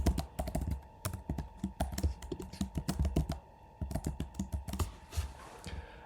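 Rapid typing on a computer keyboard while entering an email and password into a sign-up form, steady clicking keystrokes with a few short pauses, fairly close and moderately quiet.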